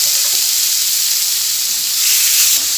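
Tomatoes sizzle in hot oil for mint chutney, a loud, steady frying hiss that holds throughout with a slight swell toward the end and no voices.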